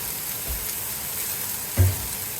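Meat fries steadily in a pan with a soft, continuous sizzle, close by, and a single dull knock partway through.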